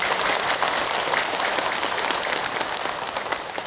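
A seated audience claps together in a dense, steady burst of applause, loud and close, tapering slightly toward the end.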